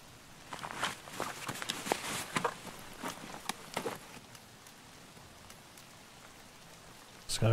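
Rain falls in the Escape From Tarkov video game, a steady wash of patter and drops heard together with crunchy footsteps that fade in and out.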